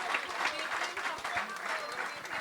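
Steady applause from a crowd at a church gathering, a dense continuous clapping at moderate level with a voice faintly underneath.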